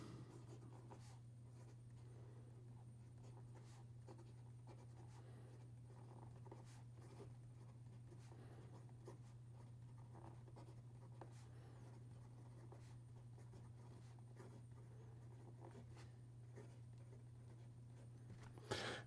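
A broad-nib Benu Talisman fountain pen scratching across paper, soft irregular strokes and taps close to the listener over a steady low background hum, no speech.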